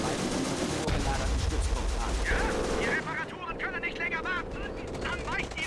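Machine gun fire in the World War II strategy game CoH Blitzkrieg, with dense rattling bursts and booming impacts. The shooting is loud at first, then thins into scattered distant pops and clatter.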